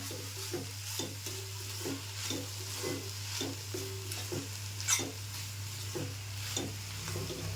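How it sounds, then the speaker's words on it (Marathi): Dried shrimp (jawla) with fresh coriander being stirred in a pan, a spatula scraping in a steady run of short strokes over a soft, continuous sizzle, close and alone with no talk. "आता मी कोथिंबीर टाकते आणि ढवळून घेते जरा."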